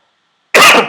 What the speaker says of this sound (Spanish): Perdón que me agarró un poquito de tos.